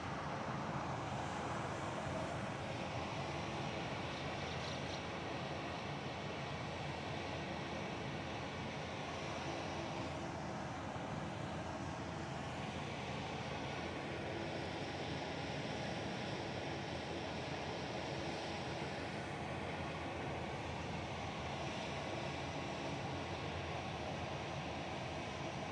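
An airliner departs Honolulu airport, its broad, steady engine roar filling the whole stretch at a constant distance, with no voices.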